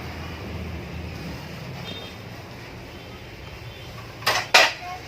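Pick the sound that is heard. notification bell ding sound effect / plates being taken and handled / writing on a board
plates being taken and handled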